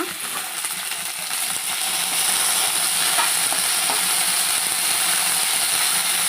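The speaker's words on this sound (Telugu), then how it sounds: "ఇలా బాగా వేగిపోయిన తర్వాత తీసేసుకోవాలండి ఇది కొంచెం వేగాలి వేగిపోయిందండి" Mint and peanut chutney ingredients frying in a pan, giving a steady close sizzle with bright crackling and occasional stirring scrapes throughout, no voices.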